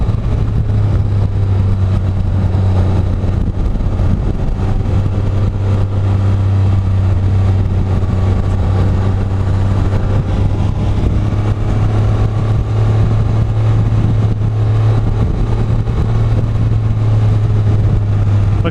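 Can-Am Spyder F3-S three-wheeled motorcycle on a test ride, its engine droning steadily and loudly at near-constant revs under rushing wind noise, with no clear shifts.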